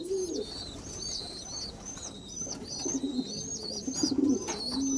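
Repeated soft pigeon coos in a steady rhythm, close by, with other bird calls and light background noise.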